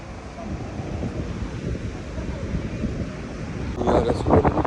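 Strong wind buffets the microphone at Blankenberge beach in Belgium, with surf rumbling steadily underneath and a voice briefly audible near the end.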